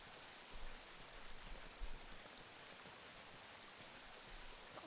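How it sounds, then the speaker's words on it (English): Steady broadband rush of a waterfall in the survival-horror game Resident Evil, a continuous wash of falling water with faint low rumbling beneath, no voices. "something tells me we have to deactivate this waterfall later"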